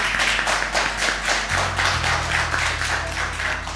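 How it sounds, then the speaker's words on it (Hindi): A studio audience at a Ramadan iftar TV show claps in steady, rhythmic applause, loud and close, with a low musical tone entering partway through. "बहुत सारी तालियां जी"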